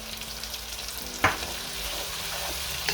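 Onions cook in a pan with salt and thyme, giving a steady, close sizzle with one short scraping stir partway through, and no voices.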